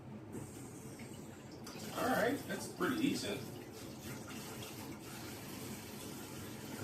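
Tap water runs while dishes are washed, a soft steady flow with a couple of louder splashing bursts near the middle, and a person talks briefly over it.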